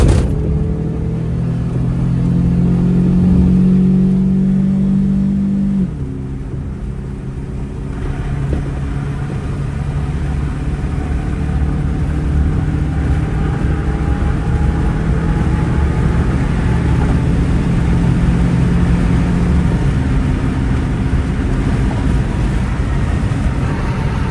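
A Toyota Will car runs steadily at top speed, its engine drone and road rumble continuous and loud throughout, with a brief dip and shift in engine tone partway through.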